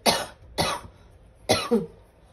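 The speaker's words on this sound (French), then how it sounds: "je suis désolée, je tousse un peu" Three sharp coughs from one person, the first two close together and the third a double burst after a short pause, close and fairly loud.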